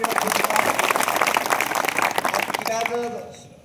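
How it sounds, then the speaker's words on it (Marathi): An audience at a village gathering claps for a girl, dense sustained applause that fades out at the end, with voices rising over it near the close. "हा ताईसाठी एकदा टाळ्या वाजून आपण"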